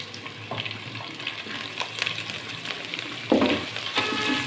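Chopped onion sizzling in hot oil in a pan for aloo matar pulao, a steady dense fry with scraping stir strokes, growing louder near the end.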